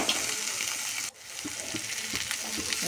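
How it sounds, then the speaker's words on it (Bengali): Green chillies frying in a pan with fish masala for a chapila fish curry, a loud steady sizzle that drops briefly, then carries on with soft stirring taps. "এখন দিয়ে দিচ্ছি কাঁচা লঙ্কা, দিয়ে আবার একটু ভেজে নেব।"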